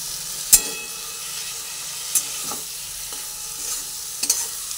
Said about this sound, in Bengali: চিংড়ি মাছগুলোকে ভালো করে ভেজে আমি পুরটা রেডি করব।